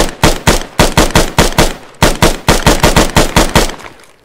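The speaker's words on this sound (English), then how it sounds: "Oh, they're shooting at me." Rapid bursts of gunfire in the video game ARMA crack loudly and close, in quick repeated shots with a brief pause midway.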